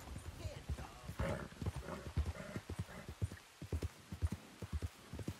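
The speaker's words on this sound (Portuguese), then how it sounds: "O cavalo tá agitado." An agitated horse in Red Dead Redemption 2, uneasy near a predator in the rain, stamps and clops its hooves in quick, irregular beats close by, with some game sound beneath.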